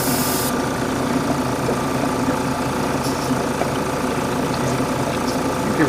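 Small air compressor motor running steadily as it refills its tank in a hobby workshop, a continuous loud droning hum with a brief hiss at the start, and no pauses throughout.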